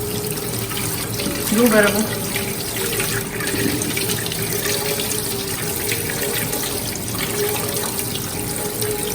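Running tap water pours over drained noodles being washed in a kitchen, a steady hiss of flowing water throughout while a person speaks briefly over it.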